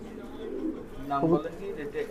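A single short coo from a high-flying or fancy pigeon offered for sale rises midway through a quiet background with faint murmuring voices.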